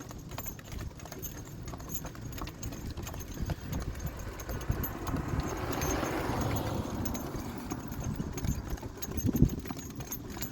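A good donkey pulls a buggy along a road, its hooves clip-clopping in a steady, continuous rhythm under a constant rumble of wheels and wind.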